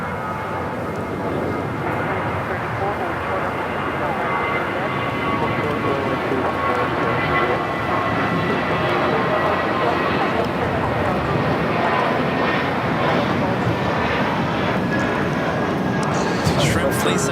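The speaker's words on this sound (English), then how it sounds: "Next takeoff is Spirit Airlines flight 8802 heading to Vegas in an A320. Early rotation there." Spirit Airlines Airbus A320 taking off at LAX, a sustained jet roar that stays strong and broad across the whole stretch, with a brief sharper burst near the end.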